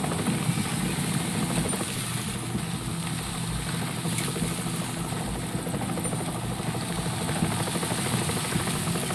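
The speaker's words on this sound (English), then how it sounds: "Hijack news helicopter." A news helicopter in Splinter Cell Double Agent drones with a loud, continuous engine and rotor rumble, holding steady throughout with no voices.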